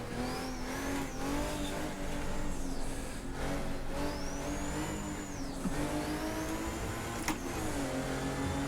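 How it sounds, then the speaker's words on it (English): A roughly 800-horsepower race car engine in Assetto Corsa, from the DRM Revival Pack, revs hard through a long right-hander, its steady howl rising and dipping with gear shifts and occasional tire squeal, with no one speaking. "You can hear that power plant just working overtime. Again, close to 800 horsepower."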